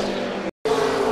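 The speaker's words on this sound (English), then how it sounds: "Dale Earnhardt Jr. in this 88 car." A NASCAR race car roars past at Richmond, a loud sustained engine drone that cuts out for a split second and then resumes with a rising note.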